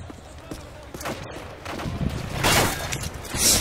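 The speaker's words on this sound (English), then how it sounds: "I hear explosions going on in the background." Explosions and bursts of gunfire in the video game MW3 Survival mode, several booming hits and crackling shots building in loudness, with game sounds layered throughout.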